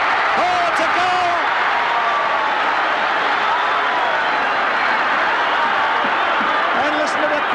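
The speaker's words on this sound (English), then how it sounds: "listen to the crowd, they're going mad" A large stadium crowd at the 1973 VFL Grand Final, Richmond vs Carlton, roars and cheers loudly and continuously after a goal, with a commentator talking over the din.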